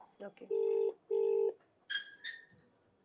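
A phone call being placed: a short burst of keypad tones, then two long electronic ringback tones with a gap between, and a brief voice-like sound at the end, all faint and close.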